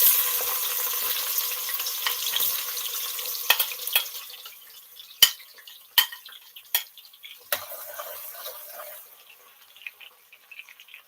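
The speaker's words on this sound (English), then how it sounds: "I'm pouring in the onions." Chopped onions sizzle and fry in hot oil for festive Christmas jollof rice, a steady bright hiss with clinks of a stirring spoon against the pot, then sharp scraping ticks as the frying settles down; no one speaks.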